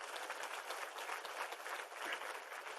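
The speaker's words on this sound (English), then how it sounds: "Please give yourselves a round of applause." Dense, continuous applause from a sizable crowd, heard from some distance and fairly even throughout without voices standing out.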